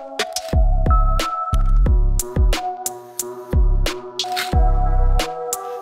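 Chord stabs sampled from NI Playbox and played on an Octatrack with reverb added, a run of about eight short punchy chords with booming low ends in an uneven rhythm, each trailing into a brief reverberant tail, with no voices.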